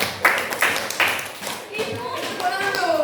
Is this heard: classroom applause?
yes